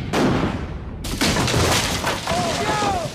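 At a Brandywine battle reenactment, a cannon fires with a heavy boom followed by a rolling, echoing blast, while voices call and chatter nearby.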